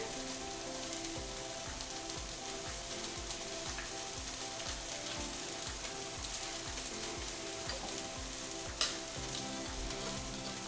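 Onion cooking down in a pan for plant-based quesadillas, giving a steady, close sizzle with faint crackle and one brief sharp clink near the end, and no voices.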